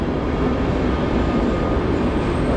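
An Intercity train at Warszawa Centralna station, a steady loud rumble of railcars rolling past close by.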